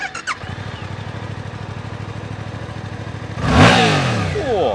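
A Yamaha MT-07 or Suzuki GSX-8S motorcycle engine idles with a rapid, steady putter, then the throttle is twisted and it revs up loudly, the pitch rising and falling in quick surges.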